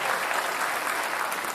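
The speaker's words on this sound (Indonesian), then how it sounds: "Saya ingin kita kasih tepuk tangan untuk kedua kandidat yang hadir Mata Najwa di malam hari ini." Dense, continuous applause from a studio audience at a televised gubernatorial debate, loud and even across the short stretch.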